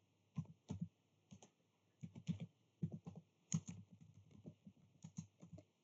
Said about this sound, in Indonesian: Nah, kita ketik lagi